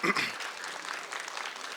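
An audience applauds a woman named Johanna at a book presentation, a dense wash of clapping that starts loud and settles into a steady, even patter, with a voice briefly audible at the very start.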